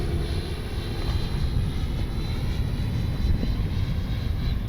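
An FMS 70mm F-18 RC jet on its maiden flight gives a steady, continuous ducted-fan roar with a thin high whine, holding even in loudness as it passes at a moderate distance.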